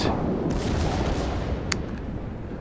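World of Warships warship main battery guns fire with a deep, rumbling boom that fills the whole clip, heavy and sustained, followed by a brief sharp crack near the end.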